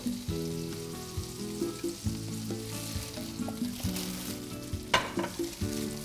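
Butter melting in a pan with lemon added sizzles and crackles steadily, with soft stirring scrapes and small pops over a continuous frying hiss.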